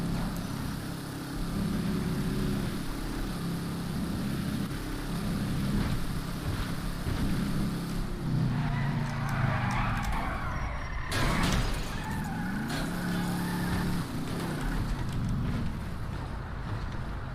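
A car in a video game chase snarls through rising and falling revs as it swerves away from a pursuer, layered over steady rain and rumbling thunder, with a sharp crash-like burst midway.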